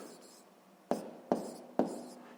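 Pen strokes writing out a sixth-grade math solution, three sharp taps on paper with soft scratching between them, close and quiet.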